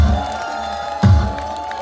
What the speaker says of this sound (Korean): 김은국 씨를 박수로 소개하겠습니다